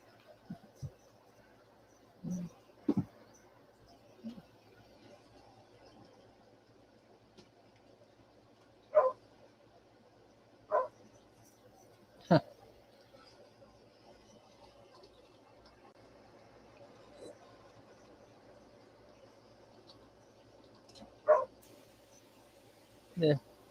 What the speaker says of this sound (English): Don't mind Hazel barking, everyone.